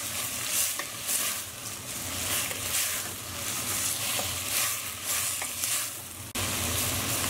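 Onion, capsicum and crushed garlic fry in a pan for a dipping salsa, giving a steady, close sizzle with repeated scrapes and stirs throughout and a brief break near the end.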